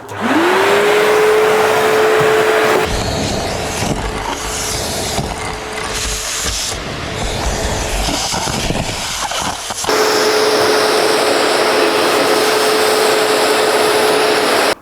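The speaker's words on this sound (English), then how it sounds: "that entire thing was vacuumed without me clamping the vacuum on top of the drum" A V-Tuf Mighty XL M-class dust extractor vacuums out gutters from 5 m up, a loud, steady motor whine with a constant tone, its airflow roaring and rattling as debris is sucked through the hose in the middle stretch.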